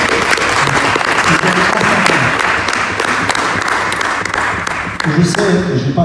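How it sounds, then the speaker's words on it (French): A church congregation applauds in a dense, steady roar of clapping that stays loud and constant for several seconds, with a voice faintly audible underneath. "On va applaudir"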